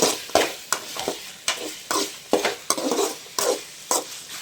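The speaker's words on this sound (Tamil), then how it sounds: "இப்போ நம்ம வந்து சிக்கனை சேர்த்துக்கலாம். நான் 1/2 கிலோ மட்டும் எடுத்துருக்கிறேன். நல்லா வதக்கிக்கலாம்." Half a kilo of chicken sautéing in hot oil with ginger and garlic, a spoon scraping and stirring in rhythmic strokes against the pan over a constant sizzle, close and clear.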